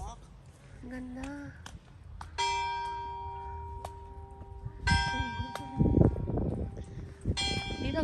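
A church clock bell in the small town of Geraardsbergen, Belgium, rings out several ringing strikes that sustain and overlap, with people talking nearby outdoors and handling noise in between.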